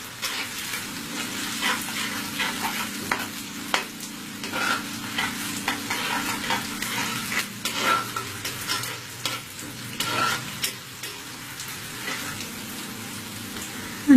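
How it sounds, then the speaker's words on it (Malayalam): Small onions, slit green chilies and curry leaves frying in oil for a Kerala fish curry, a steady close sizzle broken by repeated spoon scrapes and stirs, with no talking. "ഇനി ഇത് ഒന്ന് ചെറുതായിട്ട് മൂക്കണം. ചെറിയ ഉള്ളി ആയതുകൊണ്ട് പെട്ടെന്ന് മൂത്ത് വരും."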